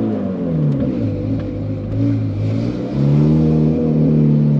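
Ferrari engine revving from behind the cabin, a deep, loud, continuous rumble with rising and falling pitch as the throttle opens, climbing to a stronger surge near the end, with no talk over it.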